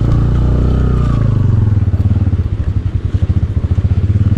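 A motorcycle labours over a rough mountain road, its engine a loud close drone that breaks into rapid rhythmic pulsing and clattering as the bike bumps along.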